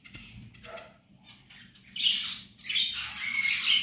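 Zebra finches in a colony of about forty birds, a burst of shrill chirps and squawks after a quieter start, several overlapping calls close by.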